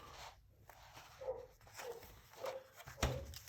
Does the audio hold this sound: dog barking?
yes